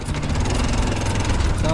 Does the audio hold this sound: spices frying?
no